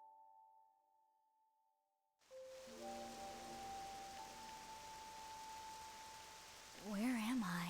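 Purple rain pours over a village in the video game Octopath Traveler II, a steady hiss of rainfall beginning abruptly after a quiet tonal intro, with sustained musical tones beneath and a brief chime-like flourish near the end.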